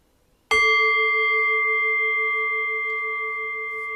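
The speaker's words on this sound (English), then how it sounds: "in a few moments' time, I'll ring the bell and I'll guide us in" A single meditation bell is struck once and rings out clearly, its bright sustained tone with steady overtones decaying slowly over several seconds in a quiet room.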